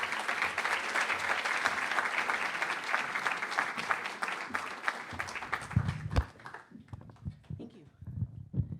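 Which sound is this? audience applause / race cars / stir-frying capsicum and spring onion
audience applause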